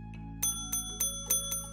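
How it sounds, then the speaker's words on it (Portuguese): Bell rung repeatedly in a video game, five bright metallic dings at a steady pace over a constant musical backdrop, close and clear. "Toca a campainha aqui."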